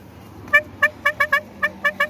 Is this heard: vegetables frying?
no